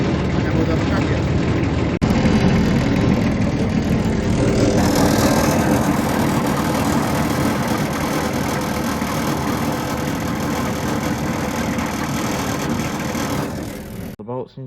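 Jenson A518 machine runs at idle after a blade change, giving a steady, droning mechanical hum that stays loud and continuous before cutting off near the end.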